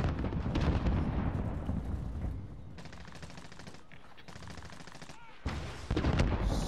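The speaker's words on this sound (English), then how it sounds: "So much gunfire." Dense bursts of game gunfire crackle and rattle continuously, with several sharp cut-offs and louder volleys near the end; no one speaks.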